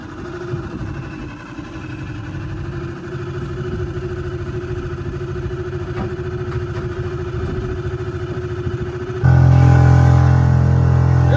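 A 6 horsepower outboard motor pushes an old Sailmaster 22 sailboat, its steady engine drone holding close and loud throughout, then jumping louder near the end as throttle is added.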